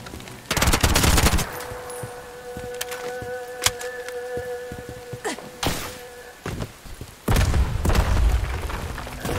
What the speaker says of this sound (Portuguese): Nossa, estão explodindo todos, cara, mano